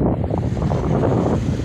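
Strong wind roars across the microphone at the shore with a constant low rumble, and sea waves wash beneath it.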